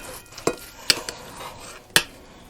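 Kitchen knife cutting corned beef against the grain on a board: a few sharp, separate knocks and scrapes spaced apart, quiet and close, with no voices.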